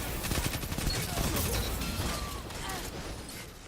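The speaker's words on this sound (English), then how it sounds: "I like this SMG a lot" Submachine gun fire in the video game Destiny 2, rapid bursts of shots over mechanical clicks and game effects, fairly close and moderately loud, tapering slightly toward the end.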